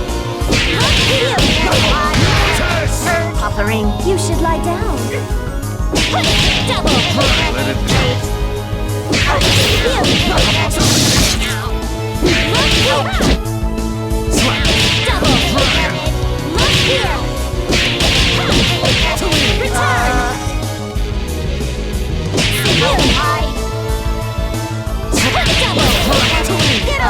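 Painwheel's blade whip attack in the Skullgirls fighting game: repeated sharp whipping swishes and hard hits land in quick bursts over loud, continuous game music and effects.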